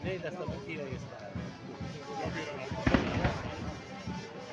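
A Zio Piro Fireworks display at the 2024 Cereo contadini festival in Belpasso, with repeated booming bursts and crackles, one louder cluster midway, while people talk nearby.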